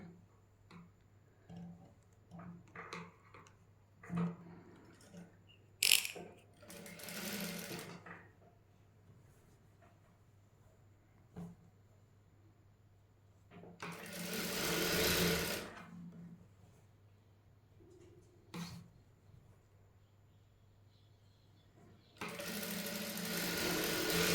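A sewing machine stitches a skirt hem in short bursts of fast, close whirring, with quiet gaps of fabric handling and small clicks between the runs.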